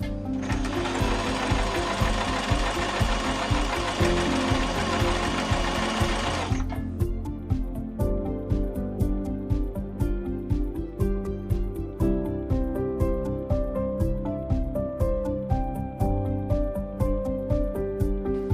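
A Singer Simple mechanical sewing machine stitches with a twin needle, running as a steady, loud, rapid mechanical chatter for the whole stretch, with a brighter whirring layer at the start that drops away partway through.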